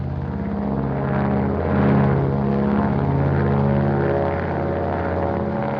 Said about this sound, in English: Look at that plane climb.